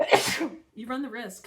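A single loud, sharp human sneeze close by at the start, followed immediately by a person talking.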